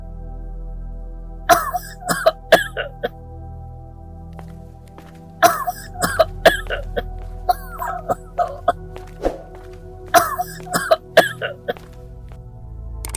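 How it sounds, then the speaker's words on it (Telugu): An elderly woman coughs in repeated harsh bursts, three separate fits of several close coughs each, loud and near with quiet gaps between them. "ఏమైంది బామ్మ, అలా దగ్గుతున్నావు?"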